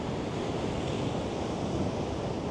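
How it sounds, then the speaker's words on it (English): Ocean waves breaking on a shore on a cloudy day, a continuous dense surf roar with wind buffeting the microphone, steady and close. "Wow, look at those waves."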